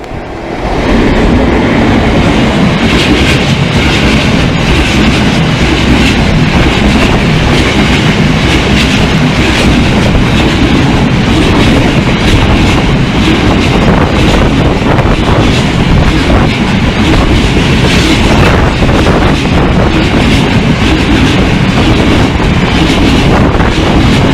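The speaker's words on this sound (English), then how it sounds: "here comes the freight train" A freight train hauled by Class 60 locomotive 60091 roars past close by at Swinderby, loud and continuous, with rumbling wheels, rattling wagons and wind buffeting the microphone throughout.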